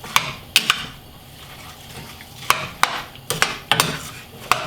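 A spoon stirs feijoas and apple with brown sugar in a pot over medium heat, making repeated sharp scrapes and clinks against the pot at an irregular rhythm, close and moderately quiet.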